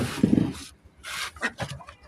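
A rooster gives a few short, close clucks in quick bursts, separated by brief pauses.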